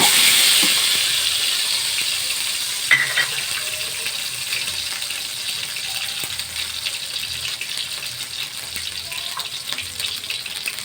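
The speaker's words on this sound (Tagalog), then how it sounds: "Gigisa tayo ng ginger." Ginger sautéing in a hot pan, a continuous bright hiss and sizzle with faint crackles, steady and close, gradually easing slightly in loudness over about eleven seconds.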